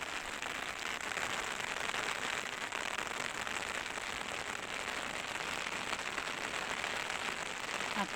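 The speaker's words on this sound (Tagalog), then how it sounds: "At ang tunog ng ulan sa bubong ng umbrella ay ng payong." Rain patters steadily on an umbrella canopy under overcast skies, a dense continuous crackling hiss heard close and alone, without talk.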